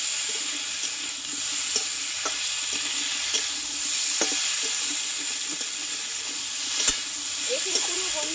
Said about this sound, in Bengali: এবার এইগুলো সব একসঙ্গে আরও আমি কিছুক্ষণ কষিয়ে নেব।